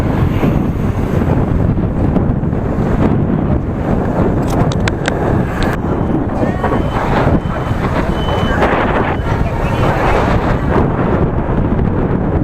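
Big waves roll onto a stony sea shore in southern Vietnam, loud and continuous surf roar with heavy wind buffeting the microphone throughout.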